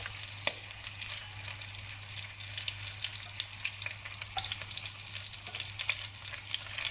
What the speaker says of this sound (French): je dépose mes viandes et on va les faire dorer sur toutes les faces